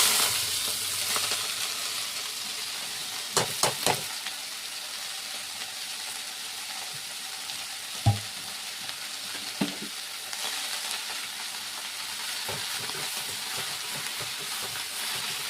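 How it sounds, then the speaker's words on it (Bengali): Leafy greens and garlic frying in a pan produce a continuous soft sizzle and hiss, punctuated by occasional sharp clacks of a utensil against the pan over about fifteen seconds. "ভাজা হয়ে গেছে, আমি এবার শাকটাকে দিয়ে দিচ্ছি।"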